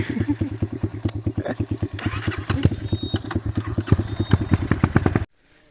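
A motorcycle engine idles roughly and revs on a dirt trail, its rapid chugging pulses close and loud for about five seconds before cutting out abruptly.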